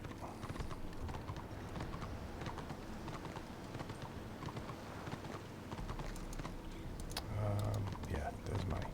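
A pack mule's hooves clip-clop steadily in the Warhammer game, a quick repeating rhythm under a player's talk, with keyboard clicks and game ambience.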